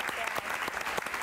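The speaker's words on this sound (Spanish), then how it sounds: "Un aplauso para ella, por favor" A television studio audience applauds a singer, with soft, continuous clapping at a distance and a voice mixed in.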